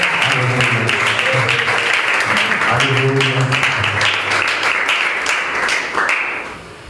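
Applause from a church congregation at a joyful service, broad clapping running steadily under and between sung and spoken lines, with voices present throughout and the sound easing toward the end.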